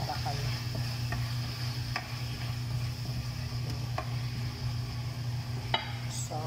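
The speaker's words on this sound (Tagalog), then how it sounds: "Tapos haluin lang natin hanggang sa malusaw na yung ating kamatis or tomato." Tomatoes are stirred in a sizzling pan while cooking chicken afritada, soft scraping strokes repeating every second or so over a constant low frying hiss.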